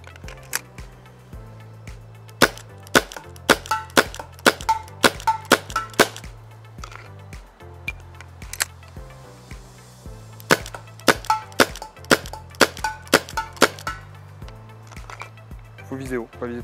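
Repeated sharp cracks of a GI Menace cal .50 toy gun firing outdoors, irregular single shots and quick bursts, fairly close, over a low sustained background tone with occasional faint talk.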